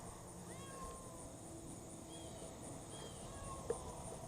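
A sick, hungry stray cat in Haysville, Indiana gives several faint, thin meows, soft and somewhat distant against a steady background hiss.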